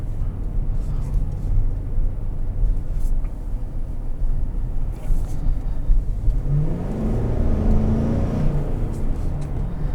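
A powerful V8 engine in a 2021 Chevrolet Suburban RST roars close by, building in pitch as the SUV accelerates hard through its 10-speed transmission, with a deep throaty rumble throughout.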